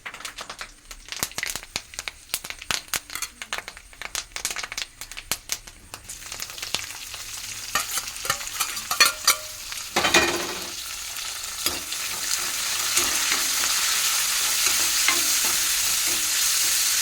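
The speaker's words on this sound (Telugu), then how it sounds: "అందుకే పచ్చిమిర్చి వేసి తాలింపు పెడుతున్నాను అనమాట." Green chillies fry in a tempering with mustard seeds and cumin while a spoon stirs them. Sharp scraping clicks come first, then a steady, fairly loud sizzle takes over and builds toward the end, with no talking.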